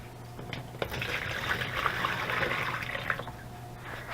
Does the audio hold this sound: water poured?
yes